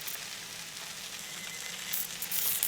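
Tri tip steak sears in a hot pan with a steady, close crackling sizzle that swells slightly louder near the end.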